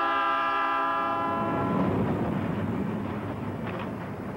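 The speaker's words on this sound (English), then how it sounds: "Let's go out and watch Andy photograph some trains" A train horn blares with a long, sustained tone as a train rolls past, giving way to loud rumbling and rattling of wheels and railroad cars close by.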